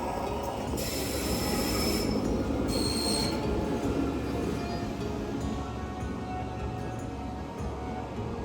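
A narrow gauge mountain train in the Swiss Alps rolls along the rails with a steady rumble and clatter, punctuated by high metallic wheel squeals, heard from inside or close by.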